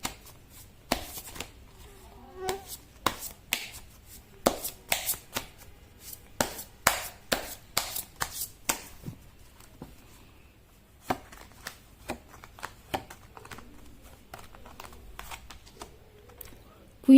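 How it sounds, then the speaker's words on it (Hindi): Tarot cards are shuffled by hand in quick bursts of sharp riffling clicks and slaps, several clusters over roughly ten seconds, then sparser handling noises, close and fairly loud against a quiet room. "कार्ड की शफलिंग"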